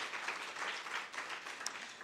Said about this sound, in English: Can we give him a big hand of applause?